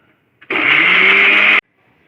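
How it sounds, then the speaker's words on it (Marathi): A mixer grinder whirs loudly for about a second as it grinds chillies, tamarind and salt with a little water. The motor starts abruptly, holds a steady high-pitched whine, then cuts off sharply, with quiet before and after. "थोडे उदक घालून ती मिरसांग पुड्डी करून घेतल्या वाटून घेवया"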